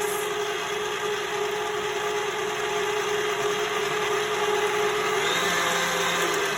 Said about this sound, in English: whip it on high, and then start adding the the sugar